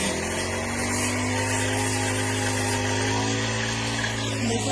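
A steady, loud motorized machine cutting a tree, with a constant low hum and grinding overtones, running without pause throughout.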